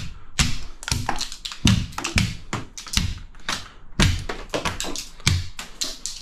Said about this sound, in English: I hate this rubber hammer